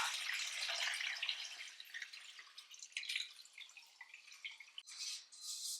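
Cooled curing brine with dissolved salt and cloves poured over a ham, a steady splashing trickle that breaks into uneven drips and spatters toward the end, close by and alone.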